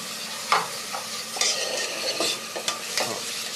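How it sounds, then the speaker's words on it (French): Finely chopped onion sizzles in clarified butter over high heat while being stirred, a steady close frying hiss broken by several brief scraping stir strokes. "la recette de Thierry Marx, l'oignon est revenu dans du beurre clarifié à feu vif."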